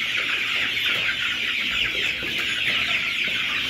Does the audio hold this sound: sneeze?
no